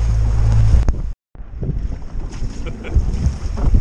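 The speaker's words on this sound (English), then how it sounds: "it's a lot windier out here than I thought it was going to be" Strong wind roars across an open fishing boat on choppy water with big waves, a loud steady rush of microphone buffeting that cuts out briefly, then resumes with rumbling gusts.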